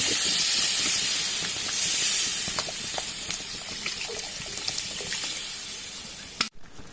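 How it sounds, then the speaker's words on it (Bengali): Water poured into a hot pan for rohu fish curry sets off a loud, broad steaming hiss that slowly eases, ending with a brief knock. "এবার আমি দিয়ে দিচ্ছি জল"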